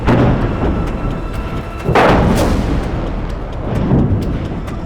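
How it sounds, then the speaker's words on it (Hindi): Strikes hit telecom towers in the Metula area, producing a run of heavy blasts and booms with rumbling tails, one sharper burst near the middle and more thuds after it, loud and dense with no speech. "आप देख सकते हैं यहाँ एक के बाद एक लगातार कई धमाके हो रहे हैं।"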